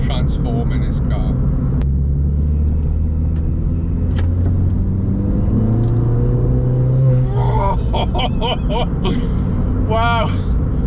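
A Ford Fiesta ST fitted with a Kaaz plated limited-slip differential accelerates hard in third gear toward a roundabout: a steady, loud engine drone and rumble rising in pitch over about eleven seconds, heard from inside the car, with a voice talking briefly near the end.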